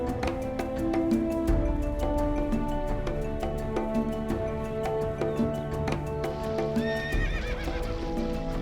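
Horses in a Mongolian desert in summer neigh and whinny repeatedly while hooves clop in a steady trotting rhythm, close and fairly loud, with no talking.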